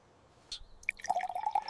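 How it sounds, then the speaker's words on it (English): Water trickles and drips into a clear glass in a small outdoor yard, a soft splash followed by a steady, close pouring stream that builds as the glass fills. "Then he filled a glass with water completely full to the top, until it could hold no more."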